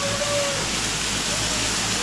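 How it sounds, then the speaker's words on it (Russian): Rain falling and dripping from the eaves of a Korean-style roof, a steady, dense hiss of water that fills the whole stretch without pause. "Смотрите, дождь капает вот с такой с корейской крыши."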